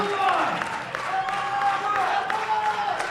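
A crowd at the women's 72 kg World Open Powerlifting Championships cheers and claps steadily for a lifter, a broad continuous roar from the hall with a voice speaking over it.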